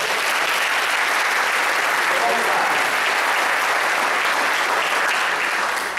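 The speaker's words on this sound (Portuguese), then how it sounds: "Vou dar uma aplauso ao Senhor." A church congregation claps loudly and continuously at a seminar service, dense applause filling the room while a voice speaks briefly over it.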